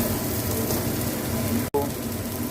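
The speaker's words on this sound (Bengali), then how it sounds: "এখন আলুটা আমি ভেজে নেব।" Potatoes fry in a little oil in a pan, giving a soft, steady, close crackling sizzle throughout, with a brief dropout near the end.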